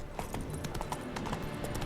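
Roach, Geralt's horse in The Witcher 3 video game, clip-clops along in a steady, quick rhythm of soft hoof beats, faint and unaccompanied.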